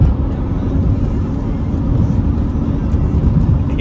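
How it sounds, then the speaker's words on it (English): A van cruises along a motorway at around 60 mph, giving a loud, continuous drone of engine and road noise that stays close and steady throughout. "This poor van doesn't go over 60."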